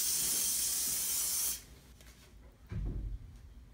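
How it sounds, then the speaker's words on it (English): A spray bottle mists disinfectant onto a kitchen countertop in one sustained close hiss lasting about a second and a half, followed by quiet and a soft handling thump. "You're gonna take it and then you are gonna spray."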